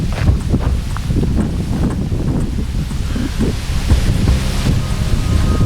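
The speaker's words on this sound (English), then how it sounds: "very windy today." Strong wind buffets the microphone in a continuous low, rumbling roar, rising and falling slightly in intensity throughout.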